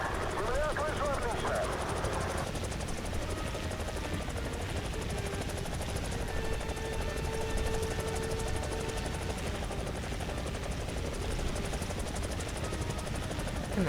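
A janky helicopter flies in a video game on a dev server test build, its steady rotor drone running loud and continuous throughout, with a commentator talking over it.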